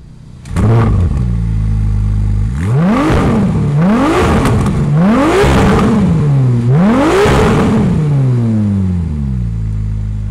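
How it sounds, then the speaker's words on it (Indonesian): A Ferrari 296 GTS 2.9-litre twin-turbo V6 plug-in hybrid engine revs repeatedly, four or five rising roars with falling pitch between, close by and continuous, no talking. "Inilah dia mesin 2900 cc V6 6 silinder twin turbo plug-in hybrid."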